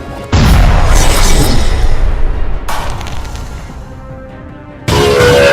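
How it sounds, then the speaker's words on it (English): A doom cannon fires in Halcyon 6: a loud booming blast that decays over a couple of seconds, then two more sharp impacts, one brief and one loud at the end. "Fire the doom cannon!"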